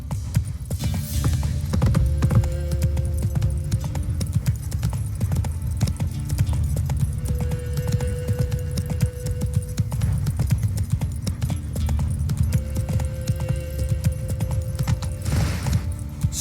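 Roach the horse from The Witcher 3 gallops steadily, hoofbeats pounding in a fast continuous rhythm over a low rumble, with faint tonal game sounds layered in.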